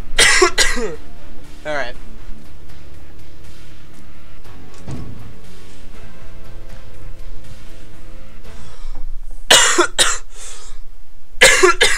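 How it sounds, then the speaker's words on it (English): A man coughs in several harsh, loud bursts at the start and again near the end, with throat clearing and brief talk between them. "Oh, fuck my cough, dude. It's acting up."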